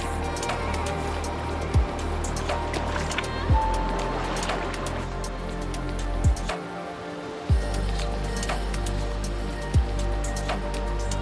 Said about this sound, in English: And yet another river crossing.